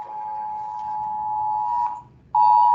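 An earthquake drill alarm sounds as a steady high-pitched electronic tone, briefly cut off before resuming, loud and continuous with no talk over it.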